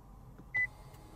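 A 2024 Toyota Vellfire cabin buzzer gives a single short, clear electronic beep while the second-row seat neutral position switch is held, alone against a quiet interior hum.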